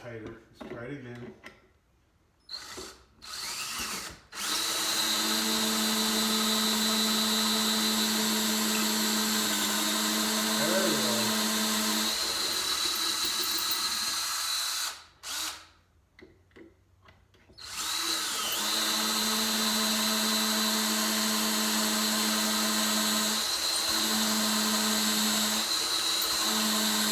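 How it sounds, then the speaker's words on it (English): A power drill bores holes in wood for a hutch in two long, steady whining runs, each with a short stop and start at the beginning and a pause between them. "First we're going to drill the holes."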